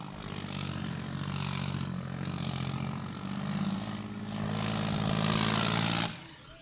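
A tractor engine drones steadily at a trolley-pulling contest in a Punjab village, a continuous loud low rumble that swells toward the end before cutting off sharply.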